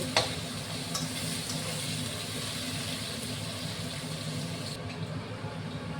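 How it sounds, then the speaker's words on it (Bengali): Onions sizzle in hot oil with a constant low crackle, a few soft clinks of stirring heard throughout; no voices. "এবার পেঁয়াজটা একটু ভাজা ভাজা করে নিব"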